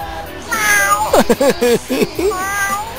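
A human voice imitates a cat, giving a drawn-out nasal meow, loud and close, with a few wavering pitch swoops.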